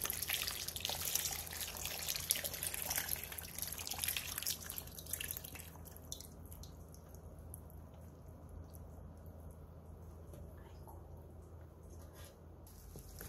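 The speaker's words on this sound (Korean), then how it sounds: "통에 된장물을 전부 부어주세요." Doenjang brine is poured into a container of pickled chili peppers, giving a faint liquid splash and trickle that fades into quiet drips after about five seconds.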